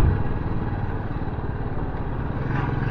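A motorbike ridden on the road toward Lonavala with two aboard gives a steady, close engine drone and rumble with wind, unbroken for the whole stretch and with no talk.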